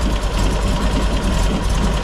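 A 1964 VW Beetle engine idles just after a cold start, giving a short, steady, close mechanical rumble with a slightly uneven pulse and no voices.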